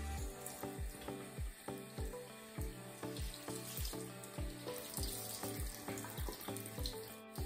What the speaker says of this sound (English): I'm gonna get this wash rag and some warm water in it